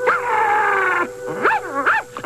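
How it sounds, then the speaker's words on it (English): Cartoon puppy with a thorn in its paw whimpering, a long wavering whine followed by two rising and falling yelping cries, loud and close with no talking. "Poor puppy. You have a thorn in your paw."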